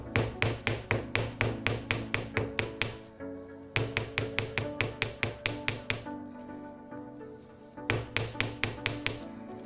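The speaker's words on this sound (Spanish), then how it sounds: "vamos a tomar un martillo" Sharp metallic hammer taps flattening wire for a modular bracelet, in quick, steady bursts, three runs of rapid strikes separated by brief pauses, close and clear with no talking.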